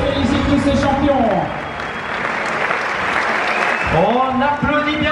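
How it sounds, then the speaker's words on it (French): A crowd at the Sierre-Zinal mountain race finish in Switzerland applauds the race champions, a dense, sustained clapping that fills the air while an announcer's voice speaks over it at the start and end. "On applaudit bien fort ces athlètes."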